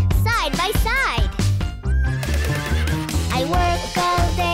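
A cartoon horse whinnies with wavering, rising-and-falling neighs in a children's song about a bunny cowboy, loud and up close over a bouncy music backing and sung voices.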